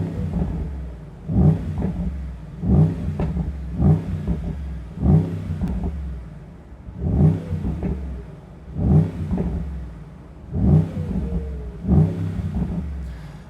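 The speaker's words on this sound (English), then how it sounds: "let's hear the sound of this SL63 AMG" A 2026 Mercedes-AMG Mythos PureSpeed SL63 V8 in Sport Plus mode is blipped repeatedly against its rev limiter, giving about seven rhythmic, deep revs that rise and fall every couple of seconds, loud and close with no talking.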